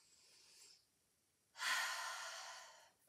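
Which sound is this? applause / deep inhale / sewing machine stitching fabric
deep inhale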